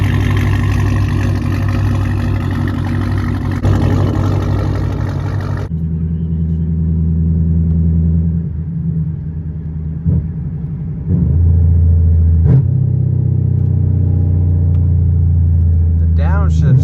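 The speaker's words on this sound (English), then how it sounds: "The downshifts sound crazy." A pink Camaro ZL1 with a full drag pack and slight mods heard from inside: a loud, steady engine roar that drops off abruptly, then deep rumbling with a few sharp pops and renewed revving as it downshifts, with people talking over it.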